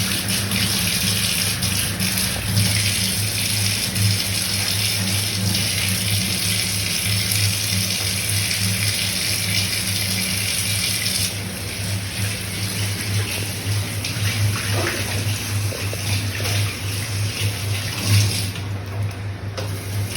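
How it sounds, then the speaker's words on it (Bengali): A tap runs continuously as a plate is rinsed under it, a steady loud gush of water with slight shifts in flow and faint handling sounds, no talk. "থালাটা ধুয়ে নিচ্ছি।"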